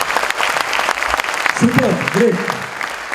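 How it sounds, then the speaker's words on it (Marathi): Audience applause at an entrepreneurship talk, a dense round of clapping from many hands, with someone speaking briefly over it partway through. "मला असं वाटतं एकदा जोरदार टाळ्या परत एकदा"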